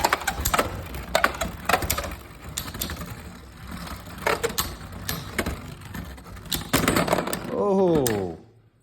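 Hasbro Beyblade Burst Hyper Sphere tops Monster Ogre and Engaard clash in a stadium, sharp irregular clicks and scraping knocks over a busy rattle, ending in a descending whirr as a top winds down; a voice talks over it.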